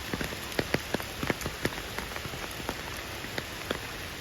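Steady rain falling on a surface at an elephant yard, with irregular close drips and taps standing out over the continuous patter.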